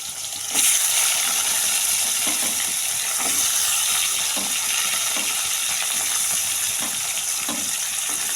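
Carrots stirred and frying in a pan during home cooking for a Guru Purnima puja, a steady close sizzle with soft scraping stirs throughout, no talk.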